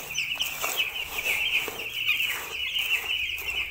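Chickens clucking steadily close by as they peck at mixed feed, a busy run of short clucks and calls over a low background hum.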